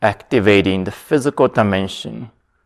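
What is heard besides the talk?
No everyday noise stands out behind the speech.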